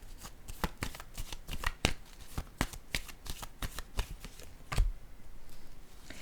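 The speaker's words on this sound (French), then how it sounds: "Je vais piger une autre carte" Tarot cards are shuffled in a quick series of close, crisp riffles and flicks, followed by a card being drawn, with no talking over the sound.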